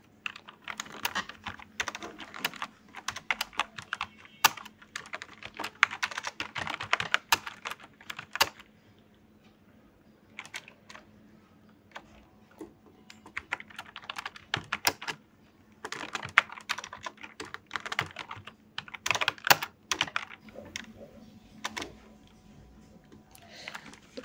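Bursts of fast typing on a computer keyboard, entering name details into an online application form for Al-Arafah Islami Bank, with close, crisp key clicks coming in several runs separated by brief pauses and no talk.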